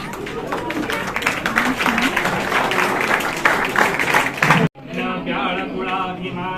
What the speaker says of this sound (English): All students are requested to clap at a time.